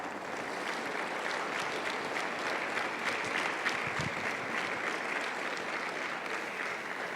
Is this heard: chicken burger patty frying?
no